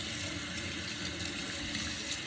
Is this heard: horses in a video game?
no